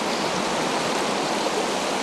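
Rushing river water pouring over rocks, a dense, steady broadband roar heard close and loud with no voices or pauses.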